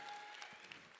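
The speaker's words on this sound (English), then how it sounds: "Give him a round of applause." Audience applause for a comedian at a live comedy show, a steady wash of clapping filling the whole second at moderate level with no talk over it.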